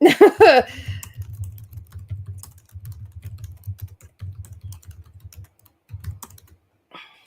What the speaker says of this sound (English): Sorry, I can't talk and type at the same time.